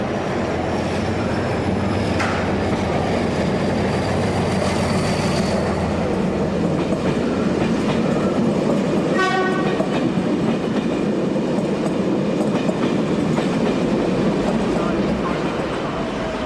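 A Faro to Barreiro intercity train rolls steadily through Pinhal Novo station in Portugal without stopping, loud rumbling and rail noise throughout, with a brief horn sounding partway through.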